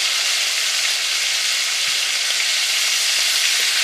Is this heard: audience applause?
no